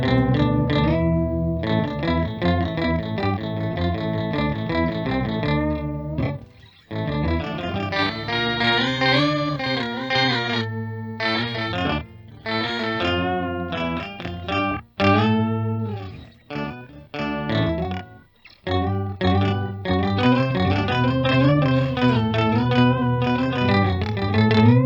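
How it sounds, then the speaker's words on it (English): Electric guitar played through a Stritch OCTPUS octave pedal with the octave-up and octave-down voices blended, giving a thick, chorused, effected tone; continuous loud riffing with brief pauses, no talking. "these are going to be 1 octave down and 1 octave up."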